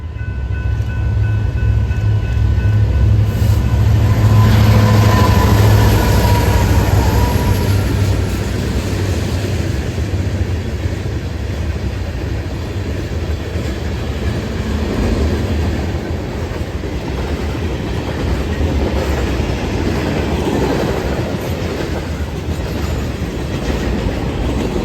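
A BNSF freight train headed by two SD70ACe diesel locomotives rolls through Downers Grove, a loud, sustained engine drone and rumble that swells early, then a long steady wheel roar with clatter and faint squeal.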